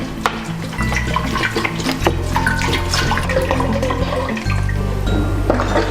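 Two litres of water poured into a pot for homemade wine, a continuous gushing, splashing stream close by that holds steady and loud, with a low filling tone underneath.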